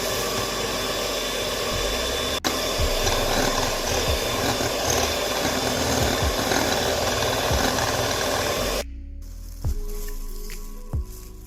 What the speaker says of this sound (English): we're going to beat with a hand mixer until it's fluffy